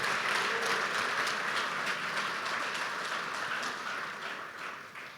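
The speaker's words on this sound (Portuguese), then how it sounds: "Dá mais uma salva de palmas para Jesus, por favor." A large church congregation applauding steadily, dense and sustained, slowly fading toward the end.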